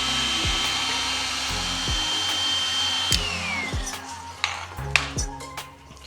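A heat gun blows a steady whooshing stream of hot air onto a Toyota Supra's metal fender ahead of rolling it, with a few sharp clicks and taps of handling toward the end.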